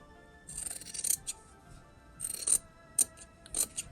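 Scissors trim the fabric and interfacing of a sewn wallet. Several crisp, close snips come in short clusters, quiet and alone.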